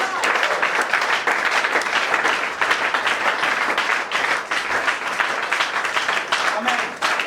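A church congregation applauding, with loud, sustained, dense clapping from many hands filling the room throughout and voices mixed in.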